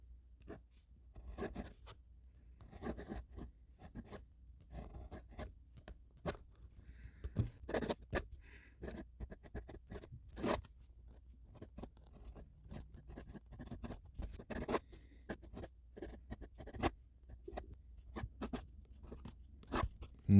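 A fine-nib fountain pen scratches steadily across paper with a slight bouncy give, its nib strokes coming close and quiet in irregular bursts of short scrapes and taps, alone with no voices.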